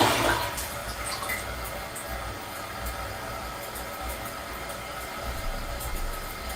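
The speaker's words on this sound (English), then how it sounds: "Did he just flush a toilet while he was still peeing?" A toilet flushing, with a rush of water that swells at the start and then settles into a steady, hissing wash and gurgle, close by and with no voices.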